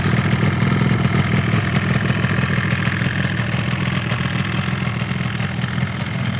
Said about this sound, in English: Starts nice and easy as it's all fully restored.